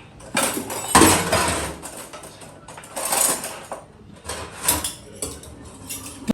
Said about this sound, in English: So I'm cutting up my vegetables now.